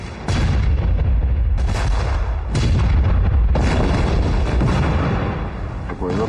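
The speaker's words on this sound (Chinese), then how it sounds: "鬼子的炮击一旦结束，他们就会进攻的。" Heavy artillery booms in a war drama set during the war against Japan, with several loud, deep blasts landing one after another and rumbling between hits.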